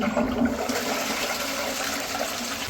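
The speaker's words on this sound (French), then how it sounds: "maintenant, on va tirer la chasse" A toilet flushes after a drain-cleaning treatment, giving a steady, close rush of water that fills the whole stretch without fading.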